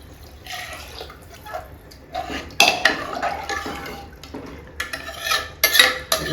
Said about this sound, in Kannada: ನಾನು ನೀರು ಹಾಕ್ತಾಯಿದ್ದೀನಿ